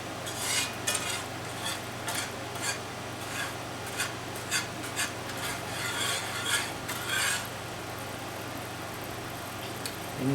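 Gravy cooks in a pan with a soft simmering sizzle under a steady low hum, broken by repeated scraping strokes of a utensil stirring against the pan.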